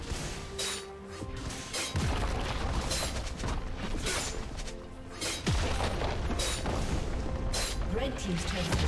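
A turret being destroyed in League of Legends, heavy booming crashes and shattering impacts amid loud, continuous game sound effects, with a clear surge partway through.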